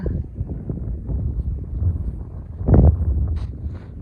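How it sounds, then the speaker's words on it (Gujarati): Gusty wind under gathering clouds buffeting the microphone in low rumbling bursts, rising to a stronger gust near the end. "અત્યારે જોવો કેવા થયા વાદળા અને કેવો નીકળ્યો પવન."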